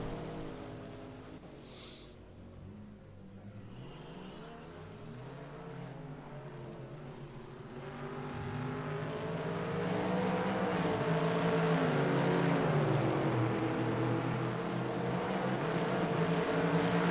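GTE Corvette race cars duel on a racetrack, their engines droning with shifting, revving tones that swell louder and closer midway and stay strong to the end.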